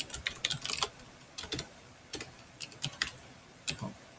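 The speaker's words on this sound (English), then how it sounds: "so now you can just type something here." Light, irregular clicks of typing on a computer keyboard come in short bursts of keystrokes with brief pauses between them, fairly quiet and close, with no one talking.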